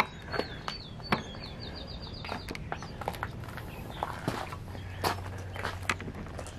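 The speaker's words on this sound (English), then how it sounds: "I hear birds." Birds call inside an abandoned speedway building in Pennsylvania, a quick run of faint high repeated chirps early on amid scattered footsteps and crunching debris in a quiet interior.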